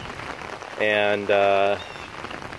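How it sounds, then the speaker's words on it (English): Light to medium rain falls as a steady, constant drizzle over a garden with rainwater-harvesting earthworks, giving an even hiss throughout while a voice briefly speaks midway. "this is a light to medium rain, not super heavy, but a nice constant drizzle"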